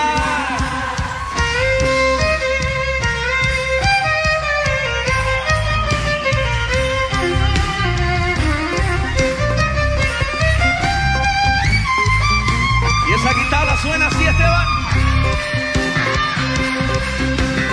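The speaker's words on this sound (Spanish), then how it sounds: "A ver cómo suenan esas cuerdas, Gerard." Strings playing within a worship song arrangement, a full, continuous instrumental passage of layered melodic lines over band accompaniment, loud and steady throughout without singing or talk.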